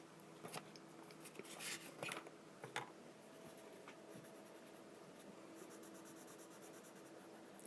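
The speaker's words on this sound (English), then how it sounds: "I'm going to gently blend that pencil color that I just laid down." A colored pencil gently blends color on paper, giving soft, close scratchy strokes with a few brisk bursts early on, then a quieter, steady rubbing.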